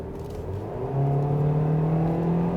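Hyundai Kona with a naturally aspirated 1.6 liter engine accelerating at full throttle, a steady engine drone that climbs gradually in pitch and swells louder partway through, heard close from inside the car.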